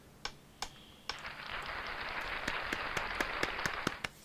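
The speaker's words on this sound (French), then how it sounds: "Donc, là, on va encore applaudir." Audience applause during a speech in DR Congo: a few isolated claps, then a wash of crowd clapping that swells and holds, with sharp individual claps standing out, heard at a moderate distance.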